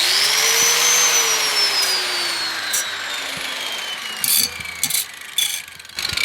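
An angle grinder deburrs a lawnmower blade clamped in a vise: a loud, high whine winds down in pitch as the disc slows, followed by a few short grinding bursts and clicks.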